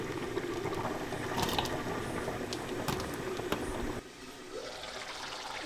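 Water draining off boiled dough dumplings in a traditional Malabar kitchen, a steady rushing, trickling wash that runs loudly for about four seconds, then drops to a softer, thinner drip and flow.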